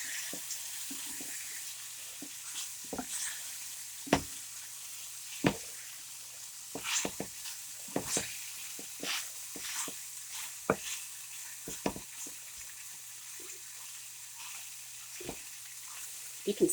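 Beef stew pieces browning in a pan give a soft steady sizzle, broken by sharp scrapes and clinks of turning at irregular intervals, with no talk.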